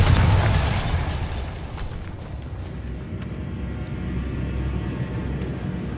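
Bombarda blasting spell explosion in a Harry Potter video game, a heavy low boom at the start that decays into a rumbling, fading tail over several seconds.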